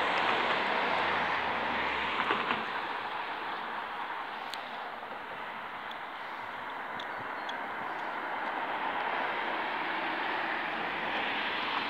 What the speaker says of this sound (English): That's a normal plane, isn't it?